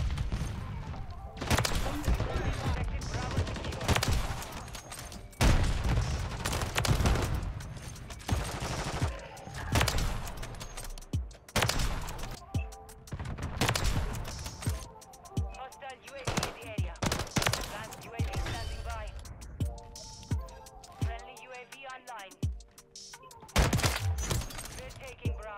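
Rapid heavy bursts from a KATT AMR rifle in Warzone 3, loud booming shots in clusters with a clattering fusillade, under occasional talk by a player.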